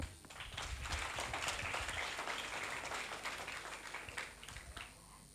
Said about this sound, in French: applaudissez très fort encore pour ces jeunes, Hamis Junior et Jafar